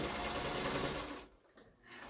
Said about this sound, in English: It goes really smoothly through the machine.